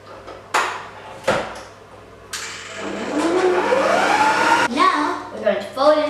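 An electric mixer churns sticky dairy-free Nutella cookie dough made with corn flour, starting in short bursts and then running in a steady whirring stretch with a few clinks and a final pulse.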